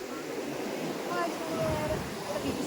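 Ocean waves break and wash along Alappuzha beach in a steady, broad roar of surf mixed with wind buffeting the microphone.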